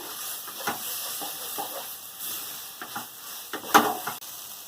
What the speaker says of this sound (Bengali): ভেজে রাখা সোয়াবিনগুলো দিয়ে দেবো দিয়ে ভালো করে কষিয়ে নিয়ে